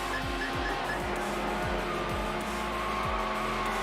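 A McLaren F1 race car in low-drag configuration screaming down a straight at over 200 mph in the racing game Need For Speed Hot Pursuit 2, its loud, steady engine note dropping and climbing again with each of several quick gear shifts.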